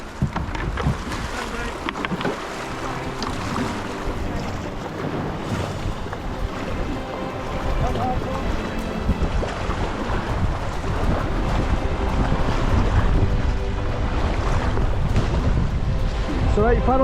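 Canoe paddled across open water on a Canadian wilderness expedition, steady splashing and sloshing of water mixed with gusty wind buffeting the microphone, continuous and fairly close throughout.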